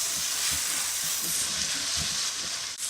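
Chickpeas frying in a pan for Bengali shingara filling, a dense steady sizzle with soft rhythmic stirring thumps up close, no voices.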